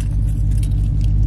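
A Dodge Scat Pack engine idles steadily with a deep, even low rumble, continuous and close, with no talking.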